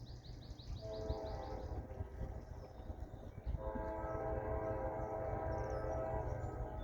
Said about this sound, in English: We have our first train of the day, and it is a westbound.